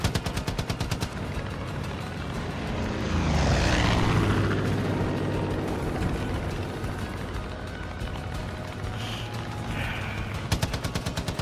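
Aircraft in the Far Cry 5 video game roars continuously for about eleven seconds, loud and broadband, with a swelling pass in the middle and rapid machine-gun fire rattling alongside at the start and end.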